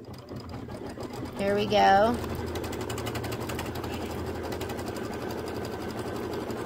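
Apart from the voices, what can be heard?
embroidery machine stitching the outside tack down line on quilt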